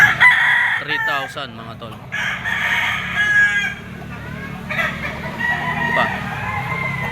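A yellow-legged gold gamecock rooster at a poultry auction market crows several times, with clucking fowl around and someone talking over it.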